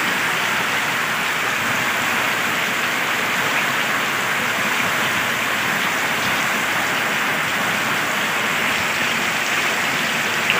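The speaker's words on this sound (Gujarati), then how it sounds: "અંધારે એટલો ને એટલો વરસાદ પડે." Heavy monsoon downpour in Gujarat pounds down without a break, filling a rooftop terrace and flooding fields of soybeans, a loud, dense, unbroken roar close by with no voices.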